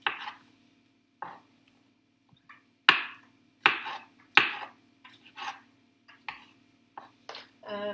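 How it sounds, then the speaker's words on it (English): A knife slices mushrooms on a cutting board for chili, giving about a dozen crisp, separate taps at an uneven, unhurried pace with quiet pauses between the cuts. "I'm just going to slice a few mushrooms"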